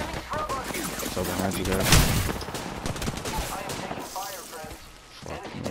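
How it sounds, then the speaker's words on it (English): Rapid gunfire bursts in an online shooter match, loud and close, layered under a player's steady voice chat. "Opening fire on the enemy."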